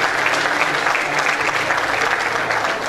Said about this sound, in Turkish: Öğretmenleri Sayın Bahar Ergin, Fuat, öğrencilerimizi yeniden alkışlıyoruz.